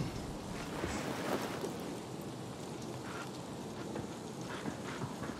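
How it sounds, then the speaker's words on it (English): Rain falling in Dying Light 2, a steady even hiss of downpour with faint low rumbles, filling the scene without any voices. "Dislike it when it rains."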